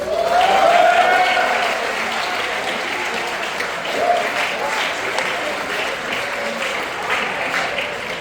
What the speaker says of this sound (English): Let's applaud for Germany.